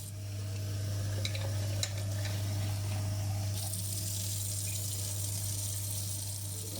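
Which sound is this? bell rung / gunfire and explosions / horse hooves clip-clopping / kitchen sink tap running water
kitchen sink tap running water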